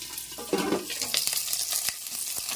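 Green chillies and onion tossed into a pan of frying potatoes, a soft sizzle with a burst of stirring and scraping near the start and a few light utensil taps after.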